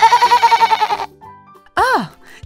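A voice imitates a sheep, giving a loud wavering bleat near the end after a stretch of sung or pulsing children's-show music that fades out.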